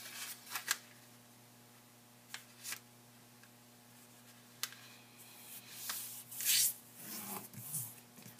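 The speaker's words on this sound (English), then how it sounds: "Go ahead and put some creases by just folding the paper in half both ways" Origami paper for a fortune teller folded in half and creased, giving scattered crisp rustles and sharp crinkles in the foreground over a faint steady hum, with busier paper handling toward the end.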